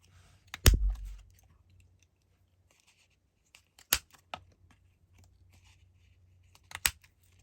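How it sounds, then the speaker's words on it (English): A hand punch is pressed through jewelry box velour fabric layered over paper, giving three separate sharp crunching clicks spaced a few seconds apart, the first heavier with a dull thump, in an otherwise quiet room. "I like to do it upside down, so that way I get the fabric first through the paper, and then just start punching."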